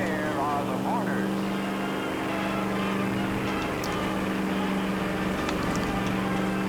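A car engine runs in the L.A. Noire video game, a steady low drone holding for the whole stretch while voices carry on over it.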